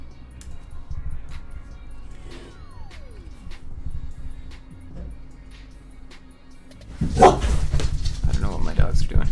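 Dogs bark in bursts in a room, a sharp volley toward the end, beneath someone talking close to the microphone.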